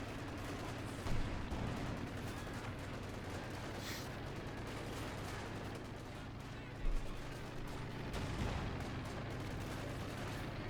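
Machine gun fire and other gunfire crackle in a Company of Heroes 2 battle, faint bursts over a dense, rumbling mix of combat noise.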